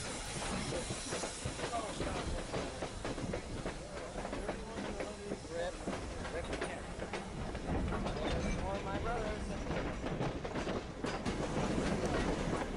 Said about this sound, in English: Another Norfolk and Western locomotive, 475, is getting prepared for another passenger train.